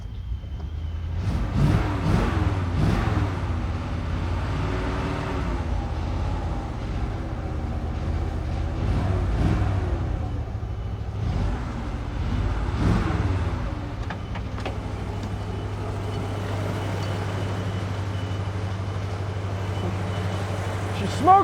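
A 1967 Chevrolet Impala V8, run again after 17 years off the road and smoking from worn rings, idles roughly and revs in several swells, then settles into a steady low drone, with people talking over it.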